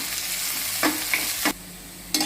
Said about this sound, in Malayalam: സവാള അത് തീരെ കനം കുറച്ച് അരിഞ്ഞിരിക്കുകയാണ്. അതൊന്ന് നന്നായിട്ട് വഴറ്റിയെടുക്കാം.